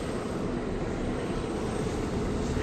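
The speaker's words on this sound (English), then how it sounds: "We will see how quickly everyone gets situated, buckled in, and the chopper takes off." Marine One, the presidential helicopter, takes off with a loud, steady roar of rotor and engine noise that fills the whole stretch without a break.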